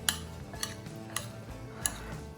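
Olive pasta salad is tossed in a bowl, four sharp clinks of a utensil striking the bowl at a slow, even rhythm over soft stirring, with no talk.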